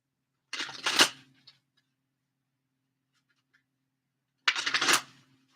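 A deck of Queen of the Moon oracle cards gets shuffled in two short, crisp riffling bursts separated by a few seconds of silence. The sound is close and fairly quiet.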